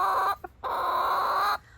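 A silkie chicken clucks close by in two bursts, a short cluck followed by a longer drawn-out one, with no talking.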